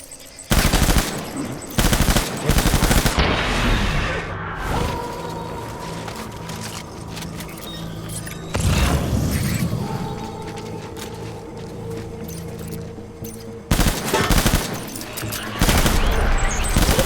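Gunfire rings out in the video game Death Stranding: loud, dense bursts of rapid shots with quieter gaps between volleys, alongside mechanical clatter and some game voices.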